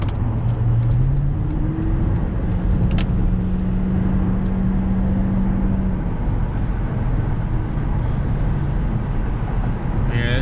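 Dodge Charger R/T with a 5.7-liter Hemi V8 driving, heard from inside as a steady low engine and road rumble with a brief rising tone early on.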